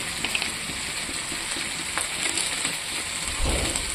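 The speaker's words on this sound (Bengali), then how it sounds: "এটা দিয়ে কিছুক্ষণ ভাজবো।" Salt, turmeric, cumin powder and chili powder fry in a hot pan with a steady, close sizzle and crackle, rising slightly toward the end.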